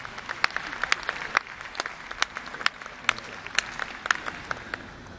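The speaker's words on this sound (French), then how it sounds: "Merci d'applaudir très fort pour lui, s'il vous plaît" Audience applause at a film festival closing award ceremony, steady crowd clapping with sharp individual claps standing out, moderately distant and continuous throughout without talk.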